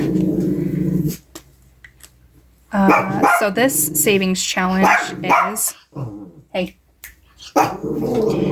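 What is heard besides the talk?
dog barking and growling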